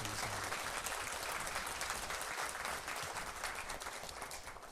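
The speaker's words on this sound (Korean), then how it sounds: "우리 고맙다고 박수 한번 해주시기 바랍니다" Congregation applause in a church thanking parking and vehicle volunteers, dense continuous clapping from many hands, steady and full, heard alone without speech.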